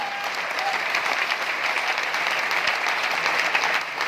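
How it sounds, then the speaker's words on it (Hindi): Audience at a network-marketing seminar breaks into loud, steady applause for an introduced guest, a thick continuous clapping wash lasting several seconds. "एक बार जोरदार ताली।"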